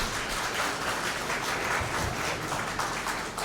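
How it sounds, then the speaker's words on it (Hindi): Applause fills a hall at a university convocation ceremony as an IAS officer is welcomed on stage: a dense, even wash of clapping from a large seated crowd, sustained throughout. "जोरदार तालियां हो जाएं।"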